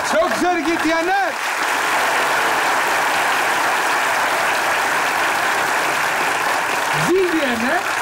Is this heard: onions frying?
no